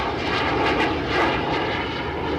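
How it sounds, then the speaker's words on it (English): A jet airliner engine roars loudly and steadily in a broadband rushing wash, sustained without a break and heard close with no voices. "The jet engine allowed for more efficient airliners and therefore more affordable fares."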